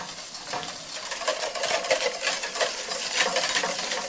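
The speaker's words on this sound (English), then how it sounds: "simply stir that butter right on in until it's nice and smooth" Butter being stirred into hot caramelized sugar for butterscotch in a pan gives a continuous crackling sizzle with soft scraping of the utensil, close and steady throughout.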